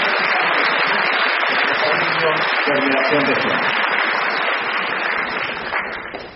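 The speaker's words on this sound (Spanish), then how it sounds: "Quisiera pedirles unas fuertes palmas para el Patronato de la UNI" Steady applause from an audience fills a university awards ceremony for incoming students, a dense wash of clapping that runs throughout and tapers off near the end, with a voice speaking over it.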